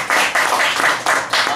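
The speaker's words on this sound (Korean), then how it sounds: "우리 허경동 연주자님께 큰 박수 부탁드립니다" An audience at a live music show applauds a guitarist performer with loud, dense clapping that swells and dips in waves throughout, with no talking over it.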